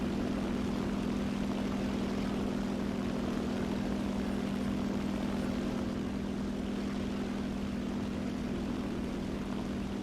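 Propeller engine of an OS2U floatplane in a combat flight game, a loud, unbroken droning hum with a strong low tone that holds steady from start to finish with no talk over it.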